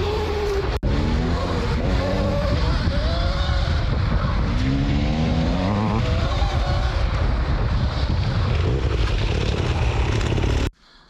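A Beta 300 two-stroke enduro motorcycle engine revving loudly and close, with rising and falling throttle sweeps and a blip, heard over rough wind and ground noise before cutting off abruptly near the end.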